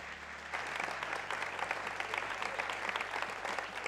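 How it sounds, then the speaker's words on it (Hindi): A studio audience on a cricket talk show applauds for Peshawar Zalmi, a brief steady patter of many hands clapping at moderate volume, close and continuous throughout. "पिशावर जालमी के लिए एक ताली हो जाए छोटी मोटी।"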